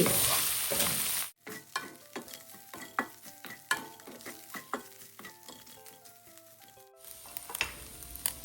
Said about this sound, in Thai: ผัดต่อไปอีกจนกระทั่งหมูแห้งได้ที่